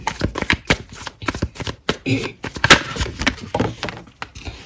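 Tarot cards are shuffled and drawn by hand, a close, busy run of riffling flicks and slaps with rapid uneven rhythm, loud and alone for several seconds.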